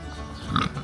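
A pig at a farm animal sanctuary in Idaho gives a single brief grunt close by against quiet background noise.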